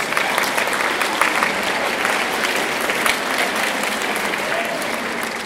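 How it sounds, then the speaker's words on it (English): An audience at a middle school awards ceremony claps, a broad, sustained roar of many hands that stays loud and even across the whole stretch, with no voices rising above it. "Give them a round of applause."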